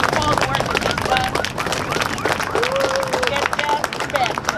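Crowd applause at a Stop the War in Ukraine rally in Santa Rosa, California: dense, continuous clapping with scattered cheers and murmuring voices, sustained and fairly loud throughout.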